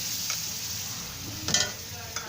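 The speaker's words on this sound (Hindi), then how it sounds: "अब हम इसको अच्छी तरह से मिक्स करेंगे" Poppy seed halwa in a pan after milk is added, a soft steady sizzle with a few clinks and a louder scrape of a spoon stirring partway through.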